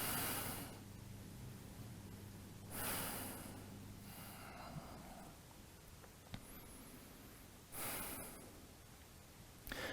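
Slow, deep breaths from someone lying on their back in a yoga pose with knees hugged to the chest. Three long, breathy exhales are spaced several seconds apart, close and soft, with quiet stillness between them.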